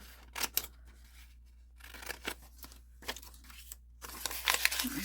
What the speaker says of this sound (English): Just cut some of this off.